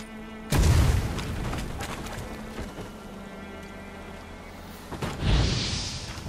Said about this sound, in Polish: Yeah, fajerwerki!